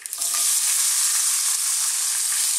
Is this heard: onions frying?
yes